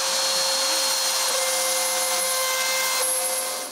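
Continuous whirring of a power saw cutting a wooden padlock key, a steady high-pitched whine with a grinding edge, close and loud, easing slightly at the end.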